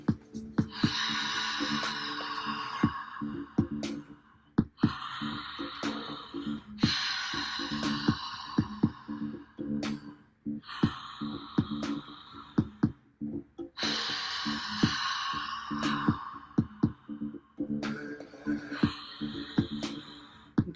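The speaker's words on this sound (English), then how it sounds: "So you're just going to start to sway and breathe in and out through your mouth." Rhythmic breathing in and out through the mouth during a swaying movement exercise, with repeated audible breaths in steady cycles, fairly close and continuous, no speech.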